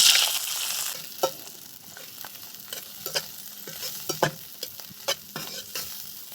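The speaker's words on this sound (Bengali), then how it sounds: "কড়াইটা গরম হয়ে গেছে, আমি চিংড়ি মাছগুলো দিয়ে দেবো।" Shrimp hitting hot oil in a heated wok with a steady sizzle and repeated sharp stirring scrapes and clacks, close and clear, no talking.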